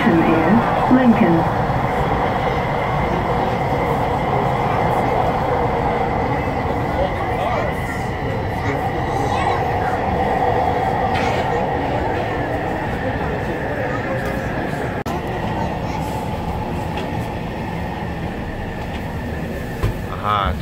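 A Vancouver SkyTrain on the Evergreen Line runs at speed, its steady rumble and rolling wheel noise filling the cabin with faint rail clatter and brief squeals on a curve, while a voice is heard briefly over the din.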